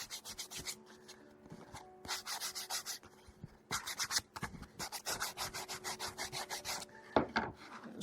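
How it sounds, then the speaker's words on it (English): Sandpaper rubs back and forth along the edge of a thin wooden Shaker band in quick, rhythmic strokes, close and fairly quiet, with brief pauses between bursts. "Sand the inside."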